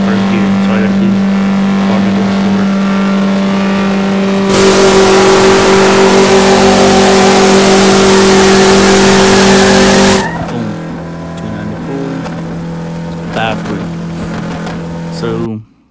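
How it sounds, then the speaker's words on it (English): No-limit drag race car in a low-5-second class, launching with a loud sustained engine roar that jumps to a harsh full-throttle blast for several seconds, then drops back to a lower drone. "all you gotta do is launch and leave in the first gear"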